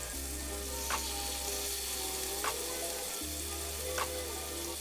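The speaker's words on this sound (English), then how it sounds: "In a grill pan on medium heat. With some olive oil, 2 tablespoons of the lamb stock. Just go ahead and throw your lamb chops in there." Lamb chops sizzle in olive oil and lamb stock in a grill pan over medium heat, a steady, close frying hiss with a few faint clicks.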